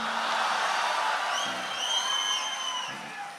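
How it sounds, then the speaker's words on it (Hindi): A live comedy audience at a Hindi stand-up show whoops and cheers, a broad wash of crowd noise with rising yells and shrieks running steadily throughout, gradually easing off at the end. "कई लोगों की चीख निकल गई"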